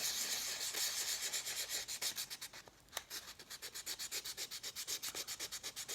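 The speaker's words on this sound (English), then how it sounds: "You want to go at this by hand in order to take it nice and easy so you don't sand through the copper." Hand sanding a copper-plated prop piece: steady, rhythmic back-and-forth rasping strokes, close and fairly quiet, speeding into quick regular passes toward the end with no talk.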